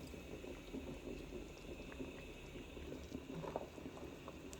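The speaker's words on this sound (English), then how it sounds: "now I'm checking back with the soup. It's boiling, it's looking good." A pot of beef bone and green papaya soup bubbles at a steady boil, a soft, continuous low burble with scattered small pops, fairly faint and alone.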